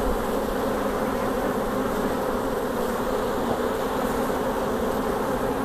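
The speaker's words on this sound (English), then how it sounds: "So these bees have been working on these cups." Honeybees from a queen-rearing colony drone in a steady, dense buzz close to the microphone, an unbroken swarm hum with no voices.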